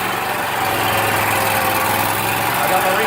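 Engine of a T60 hydroseeder idling after a restart, a loud, steady mechanical drone with a faint vibrating rattle, unchanging for the whole stretch.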